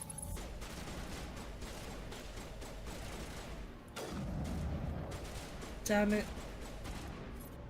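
Rapid gunfire from weapons in the video game Mass Effect, a steady dense stream of shots with a brief pause and a sharp burst near the end, under a player's occasional exclamations.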